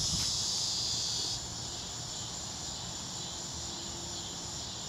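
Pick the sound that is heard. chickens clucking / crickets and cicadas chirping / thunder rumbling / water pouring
crickets and cicadas chirping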